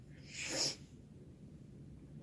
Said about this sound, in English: Excuse me now, I'm going to be sniffing.